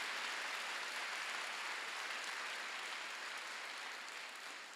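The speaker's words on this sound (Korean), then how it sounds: "박수 좀 세게 쳐봐요." A church congregation at a Wednesday worship service applauds hard and steadily, a thick even roar of clapping that fades slightly toward the end.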